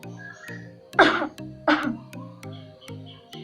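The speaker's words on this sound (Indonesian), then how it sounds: "Etika batuk yang benar itu seperti ini." Two sharp, close coughs ring out about a second apart over a soft, steady musical background.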